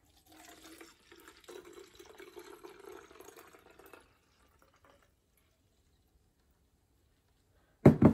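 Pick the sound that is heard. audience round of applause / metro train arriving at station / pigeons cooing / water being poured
water being poured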